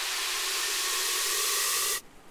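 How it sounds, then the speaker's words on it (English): A bright white noise riser from a chill pop track swells as a loud, dense hiss, then cuts off abruptly just before the end, leaving near silence. "paired that with a bunch of white noise risers and fallers"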